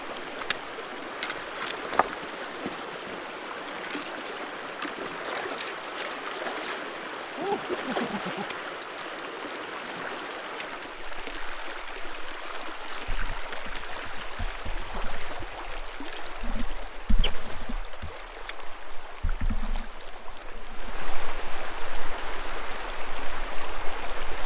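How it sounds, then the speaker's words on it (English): A hiker wades across a flowing creek on a trail, with constant rushing water, splashing steps and sloshing that grows louder toward the end. "So let's ford this creek."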